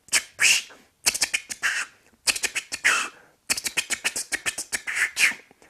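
Human whistled imitation of a chickadee's fast chewy scratch call, delivered as quick clustered scratchy bursts in four groups, close and clear with no speech.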